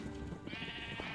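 A sheep in Minecraft bleats once, a short wavering game-style baa over a continuous background of ambient sound.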